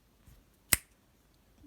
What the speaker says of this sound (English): I want you to clap or snap.